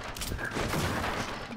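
In the Resident Evil 6 video game, a burst of rapid gunfire is aimed at barrels, heard as a dense, continuous rattle of shots for a moment. It is loud and close with game noise behind it.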